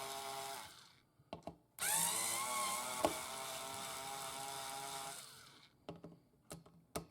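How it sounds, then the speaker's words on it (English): A power screwdriver backs out the neck screws on a Samick Signature guitar laid flat, giving one sustained whirring run of a few seconds with a brief click partway through, bracketed by short handling knocks before and after. "we're just going to take these screws out"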